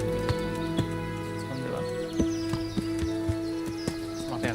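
A horse in the medieval video game Kingdom Come: Deliverance clip-clops at a steady walking rhythm over sustained musical tones, with a brief spoken question in the middle.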